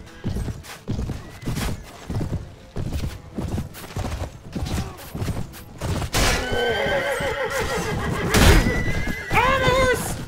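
Rapid galloping hoofbeats pound steadily, then a loud horse whinnies and neighs repeatedly over the clatter, close and intense, in the video game Mount & Blade, A New Dawn mod, during a battle.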